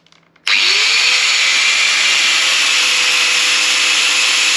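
An angle grinder fitted with a rust-removal disc spins up abruptly and grinds rust in one loud, continuous, close-up whine that holds steady to the end.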